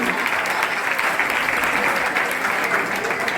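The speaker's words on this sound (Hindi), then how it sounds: "जोरदार तालियां इनके लिए" Steady, dense applause from a school audience at a cleanliness quiz, continuous and fairly loud throughout with no break.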